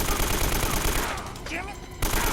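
Rapid machine-gun fire in an Uncharted firefight, a loud, close, crackling stream of shots that briefly thins before another burst kicks back in.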